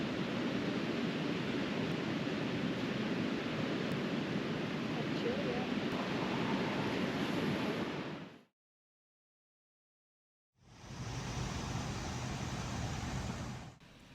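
A river rushing past a campsite in the Colorado mountains near Leadville and Twin Lakes, a steady broadband wash of flowing water that cuts out to silence for about two seconds and then resumes.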